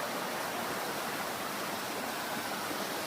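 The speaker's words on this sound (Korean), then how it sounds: "맑은 계곡 물소리와" A clear mountain valley stream flows beside a camping area above a waterfall in the Yeonha valley, Yeongwol, with steady, full rushing water filling the scene and no voices.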